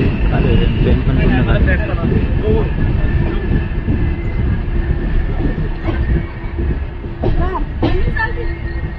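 A Ratnagiri passenger train on the Konkan Railway rumbles steadily throughout, a loud continuous rolling drone with faint rail clatter, while people talk over it.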